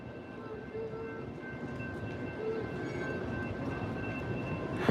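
An Amtrak Lincoln River Runner train rolls along the rails with a steady, loud rumble and rattle heard from inside the car, unbroken for the whole stretch.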